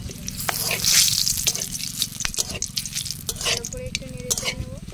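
Whole garam masala and bay leaves sizzle and crackle in hot oil in a home kitchen for a vegetarian curry. The spluttering is close and lively, with bursts of popping and some stirring clinks, and no talk is heard.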